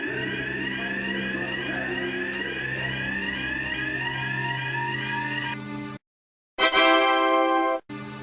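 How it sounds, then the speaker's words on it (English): A fire alarm blares in a loud, continuous electronic warble that cuts out briefly, then resumes as a harsh pulsing tone before stopping again, with no talking. "Do you remember how to set the fire alarm?"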